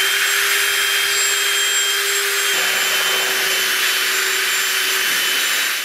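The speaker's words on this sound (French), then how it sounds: "je commence par bien mélanger la peinture à la chaux avec un malaxeur rotatif" A rotary mixer churns lime paint in a bucket, giving a steady, loud electric whir with a constant motor tone that shifts slightly partway through as the load changes; no talking.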